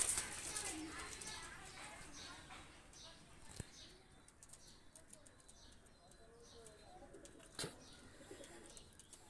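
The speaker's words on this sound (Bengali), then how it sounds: "দুটা কবুতর ছেড়ে দেখাচ্ছি" Two Pakistani pigeons with short beaks are released, giving soft cooing and brief bursts of wing flapping over a quiet outdoor background with faint, muffled voices.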